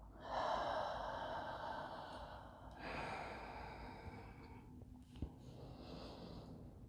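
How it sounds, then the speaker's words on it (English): Slow, close breaths during a deep hamstring stretch: a long airy exhale, then a second softer one, and a faint third toward the end, with a small tap in between. "And breathe out"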